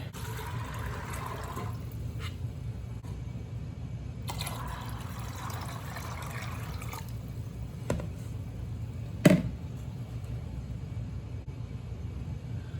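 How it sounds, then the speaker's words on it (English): Tap water runs into a stock pot of beans that soaked for over 12 hours, a steady close-up rush that comes in two long stretches with a quieter gap between them. "I'm gonna go ahead and add them to a stock pot and fill it up with water."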